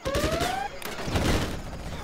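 Quad Cannon gunfire in Command and Conquer Zero Hour: rapid, dense bursts of automatic fire rattling continuously, close and fairly loud, along with a brief whistling tone at the start.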